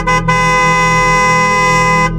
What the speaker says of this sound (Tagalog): bumusina ulit siya sa ikatlong beses